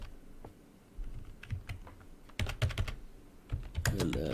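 A few keystrokes tapped on a computer keyboard to enter a short Linux command, quiet clicks in small clusters with brief gaps, no talk.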